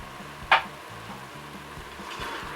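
Pork sauté with mushrooms stirred inside a Moulinex Cookeo multicooker: a gentle sizzle with soft scraping, one sharp utensil knock early on, close and moderate, over a quiet tonal background.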